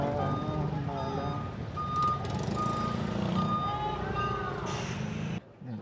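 A large truck reverses with a steady repeating backup beeper over a rumbling engine, while people talk nearby.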